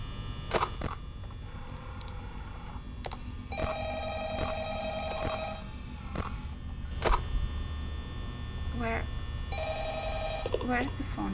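A telephone rings in a video game: repeated bursts of bright electronic trilling separated by pauses, over a low steady hum with scattered clicks.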